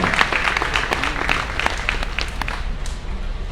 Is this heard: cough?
no